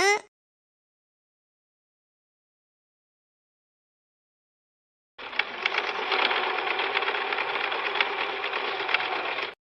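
A sewing machine stitching cloth runs in a steady, loud mechanical rattle for the last four seconds after a long silence, with a brief voice at the very start.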